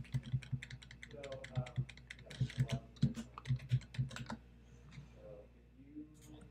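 A card number being typed on a computer keyboard, a quick run of light close key clicks in bursts, fairly quiet, with a person speaking faintly in places.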